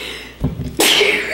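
A single person sneezes, with a short intake of breath and then a loud, sharp, close burst that trails off.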